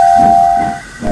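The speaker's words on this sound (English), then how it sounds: "They whistled to each other, but Oliver felt dreadfully nervous inside." Steam locomotive whistle from the Enterprising Engines railway, a single steady high tone held loudly for most of the moment, dipping briefly near the end before returning.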